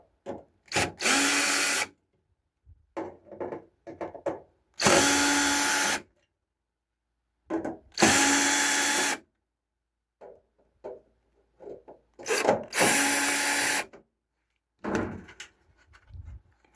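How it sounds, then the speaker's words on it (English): A small power drill whirs in several short, loud bursts as four screws are backed out of a Samsung dryer while changing its moisture sensors, with quiet pauses and small handling clicks between them. "Grab our little drill."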